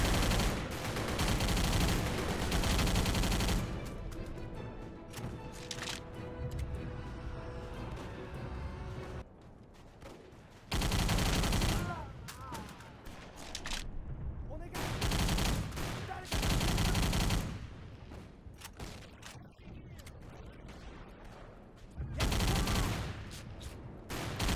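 Rapid automatic gunfire in a video game mows down enemies, coming in loud sustained bursts separated by quieter gaps.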